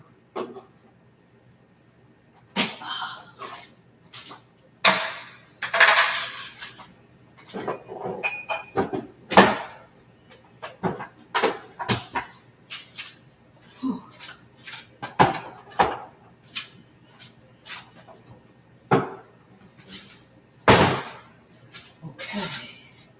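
Dishes, pots and pans clatter and cutlery clinks in a home kitchen as a food processor is dug out, with scattered sharp knocks and bangs between quiet gaps.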